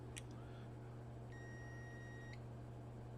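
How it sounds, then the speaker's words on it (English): A multimeter in diode mode beeps while probing a PS4 power supply, giving a short chirp and then a sustained steady electronic tone lasting about a second over a low constant hum. "Here we are on a diode. It's going to beep like we have a short."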